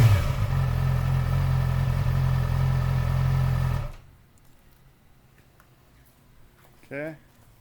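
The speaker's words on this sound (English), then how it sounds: "Here's stock exhaust." A motorcycle on its stock exhaust with the catalytic converter fitted idles and revs loudly close by, about three feet away, then cuts off abruptly, leaving quiet with a brief voice near the end.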